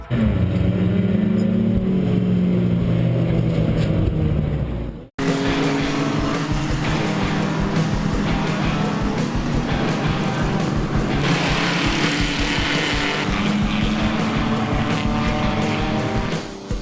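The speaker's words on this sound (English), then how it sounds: "And out we went, and Jeff's on the track racing." Race cars roar around a track in a loud, continuous engine drone that stays steady, with a brief cut early on.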